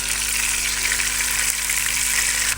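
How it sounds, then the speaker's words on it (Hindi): Marinated fish pieces shallow fry in hot oil in a kadai for a fish curry, producing a loud, dense, close-up hiss and crackle that holds steady throughout before dipping briefly at the very end. "ऑयल के अंदर हम इसको थोड़ा सा शैलो फ्राई करेंगे।"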